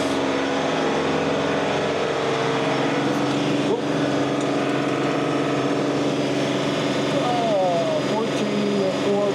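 John Deere 3R compact tractor with HydrosPlus transmission running at wide open throttle near 2700 RPM, a loud, steady engine drone that holds for the whole stretch without letup.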